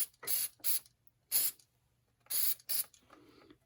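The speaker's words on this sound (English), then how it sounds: "For cleaning, you can just spray it with some brake clean," Brake cleaner sprayed onto a brake part from a can, five short sharp hissing bursts up close with brief pauses between, then a fainter trailing hiss.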